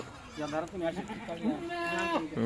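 Kathiawari goats bleat in wavering, repeated cries at close range, overlapping one another with a steady murmur behind them.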